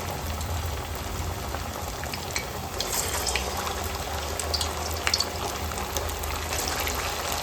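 Suji kakara pitha, a traditional Odisha sweet, frying in hot oil over medium flame, giving a steady close crackling sizzle with scattered pops throughout, no voices.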